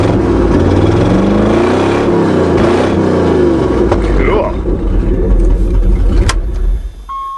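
A 1998 Dodge Dakota pickup engine catches quickly after a crank position sensor repair and revs loudly close by, steady roaring with a dip near the end, while a voice talks over it.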